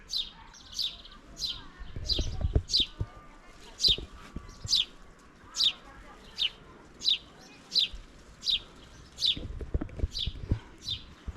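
A small bird repeats a short, bright chirp at a steady rhythm, about one per second, fairly close, in Deauville, Normandy, with occasional low thumps and rustling underneath.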